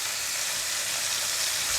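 Pork shoulder sizzles over a charcoal grill in a continuous, even, fairly loud crackling hiss with no talking.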